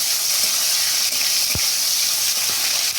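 Tomato sizzles and fries in a hot pan with cinnamon and cloves, giving a steady, close hiss with a few soft stirring knocks.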